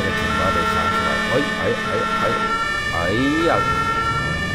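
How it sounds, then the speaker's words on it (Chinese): A toy fire truck's electronic siren wails loudly, its pitch rising and falling in repeated sweeps over steady sustained tones for the whole stretch. "这个警报得响起来"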